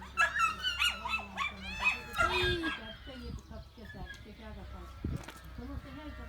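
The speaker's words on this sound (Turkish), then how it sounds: "Köpeklerin içinde kaldım." Several dogs bark in quick, overlapping bursts close by in a Turkish village, fading after a few seconds while a person keeps talking.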